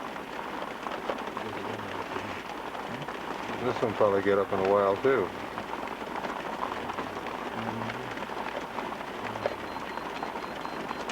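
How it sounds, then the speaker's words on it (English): Rain pours onto a roof in a steady broadband hiss that lasts the whole stretch, with a person talking briefly over it near the middle. "Pouring with rain. Hear it on the roof?"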